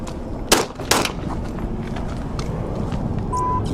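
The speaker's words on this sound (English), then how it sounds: "Multiple shots fired." Two sharp, loud gunshot bangs ring out about half a second apart during a police shootout with a man armed with an AR rifle. Steady background noise follows them.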